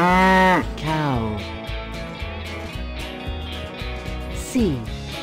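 A cow lows in a drawn-out moo with gliding pitch at the start and again near the end, set over a bouncy children's music backing.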